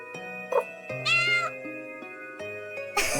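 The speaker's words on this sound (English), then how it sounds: "Maybe I shouldn't be making heartfelt speeches to a cat." A cat in the video game Umbraclaw meows several times, short clear mews over a soft sustained musical backdrop, close and fairly quiet.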